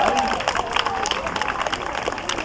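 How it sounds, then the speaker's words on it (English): A zoo bird-show audience claps for a four-year-old boy, with scattered applause and cheering mixed with crowd chatter and a voice talking over it. "Big round of applause for Jack"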